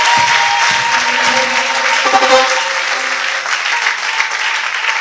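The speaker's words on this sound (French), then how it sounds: "Alléluia, acclamons fort le Seigneur." A church congregation breaks into loud, sustained applause, dense and continuous clapping close by, with a few voices and faint musical tones briefly showing through early on.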